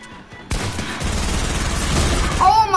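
Gunfire in Fortnite breaks out suddenly after a quiet moment and becomes a dense, rapid rattle of loud close shots that runs to the end.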